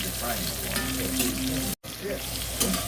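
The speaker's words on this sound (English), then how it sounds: "Our squash is cooking very nicely." Sliced squash sizzles steadily in a frying pan, a dense, even crackle of hot oil with a brief dropout near the end.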